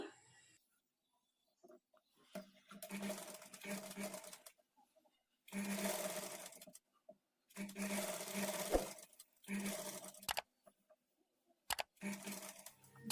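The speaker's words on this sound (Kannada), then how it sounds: "ಈ ನ್ಯಾಚನ್ನು ಕರೆಕ್ಟಾಗಿ ಕೂರಿಸ್ಕೊಂಡು ಸ್ಟಿಚ್ ಮಾಡಿಕೊಳ್ಬೇಕು" An electric sewing machine stitching a princess cut padded blouse runs in several steady whirring bursts separated by pauses, close and moderately loud, with a voice speaking during the gaps.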